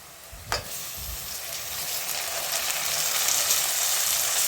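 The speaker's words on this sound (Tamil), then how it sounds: "தக்காளியை சேர்த்து தக்காளி நல்லா குலைவாக வதங்கி வர்ற வரையும் நல்லா வதக்கிக்கிடுவோம்" Tomatoes dropped into a hot pan with onion, garlic and green chilli, a brief clatter followed by a steady, rising hiss of frying that fills the rest of the moment.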